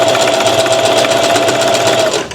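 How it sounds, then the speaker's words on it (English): A Singer 4423 heavy duty sewing machine running steadily at close range, a dense continuous mechanical whir with a fast needle rhythm and a thin whine, stopping just before the end. "4423 heavy duty sewing machine."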